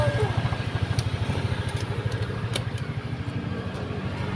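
A motorcycle riding along a mountain road corner in Tanay, Rizal, a steady mid-pitched engine drone that holds fairly close throughout, with voices faintly mixed in.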